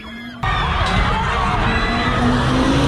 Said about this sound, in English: 300 protesters marching down Sunset Boulevard Thursday night after the Breonna Taylor decision